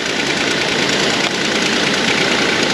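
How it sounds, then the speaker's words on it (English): A loud, steady engine idle with a continuous clattering, rattling texture from worn timing chains throughout and no voices. "The timing chains are going rocka, rocka, rocka, rocka."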